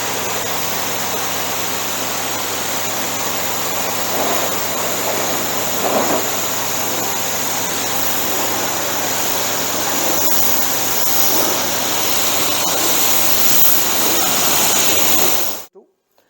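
Water spraying hard from a sprayer fitted with a changed nozzle, a loud continuous rushing hiss that holds steady for about fifteen seconds and then cuts off abruptly.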